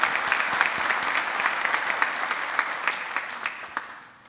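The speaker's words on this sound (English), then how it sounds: "If we could give him a round of applause." A room full of people at an annual town meeting gives a round of applause, dense at first and then thinning into scattered individual claps that fade toward the end.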